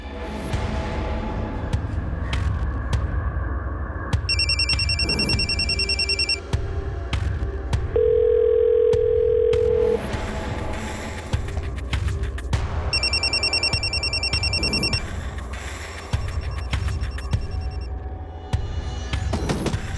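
A telephone rings repeatedly and goes unanswered, its electronic tones sounding in regular bursts over a steady low hum, with no voices present.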